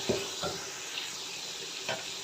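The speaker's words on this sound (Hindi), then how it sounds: "मटन को ऐड करने के बाद खूब अच्छे से भुनाई करेंगे इसकी" Boiled mutton being sautéed in a pot for a mutton yakhni pulao, with a steady sizzle under a few soft stirring scrapes.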